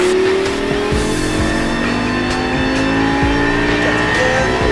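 A Lamborghini LP560 screams at full throttle around a racing circuit, its engine loud and close from inside the car, pitch climbing through the revs with a quick shift partway through.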